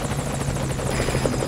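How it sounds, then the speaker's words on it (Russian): Helicopter in the video game Metal Gear Solid V: Ground Zeroes, a steady loud rotor drone with a continuous buzzing hum that holds throughout, with no voices over it. "Садится ли вертолет?"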